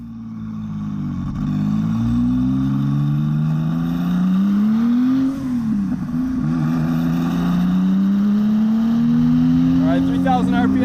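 A turbocharged 420 HP 1982 Porsche 911 engine drones and rises in pitch as it accelerates under boost, dips at a shift into third gear, then climbs again, loud and close throughout.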